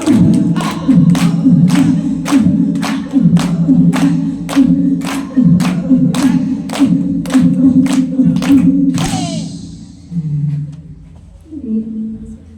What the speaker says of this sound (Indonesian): Kasih tepuk tangan dia mau menemui ayah dan ibunya